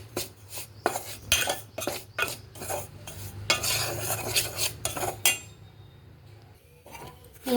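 Ragi flour roasts in two tablespoons of oil in a pan, stirred with a metal spoon: rapid close scraping clinks in a busy rhythm over a faint sizzle, easing into quiet near the end.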